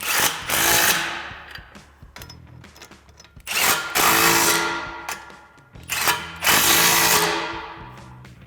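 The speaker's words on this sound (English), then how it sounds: "we'll tighten that down using our 15mm socket" A power tool tightens a front exhaust clamp on a 2018-2023 Mustang with a 15mm socket during a Corsa cat-back install, sounding in three loud, close bursts separated by brief pauses.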